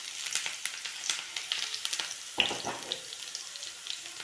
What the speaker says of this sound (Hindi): ये प्याज और लहसुन हो रहे हैं फ्राई।